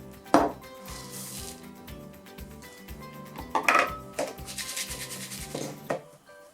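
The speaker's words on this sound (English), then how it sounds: "Next we're going to add all of our dry ingredients to our large mixing bowl." Dry crumble ingredients such as flour being tipped and rubbed into a large mixing bowl, giving several soft scraping and rustling bursts with a few light knocks against the bowl, fairly close, with no talk.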